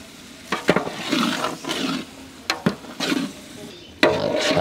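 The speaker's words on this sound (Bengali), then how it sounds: "আমরা মশলা কষিয়ে নিয়েছি মশলা কষে গেছে সুন্দর গন্ধ ছড়াচ্ছে" Spices with bay leaf and black cardamom frying in a pan for a chicken roast, giving repeated sizzling bursts and stirring scrapes at close range, with no talk over them.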